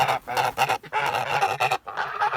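Grown Kholmogory-breed geese honk in a rapid, repeated series of loud, nasal calls, close by, with brief pauses between bursts.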